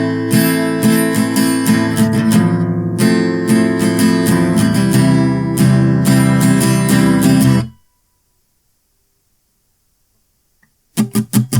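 Close guitar strumming of three chords in a driving rhythm, ending in a run of muted strums, then several seconds of silence before a few short strums return.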